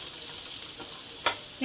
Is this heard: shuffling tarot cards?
no